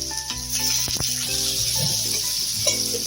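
Chopped onions sizzle steadily in hot oil with cumin seeds and bay leaf in a pan, a close, soft crackling fry that carries on evenly without talk.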